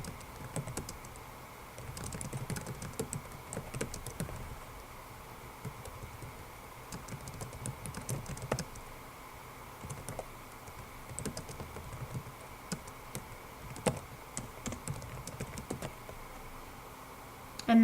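Steady typing on a computer keyboard while entering HTML table settings: a continuous run of light, quick key clicks at close range, quiet and even, with no talking.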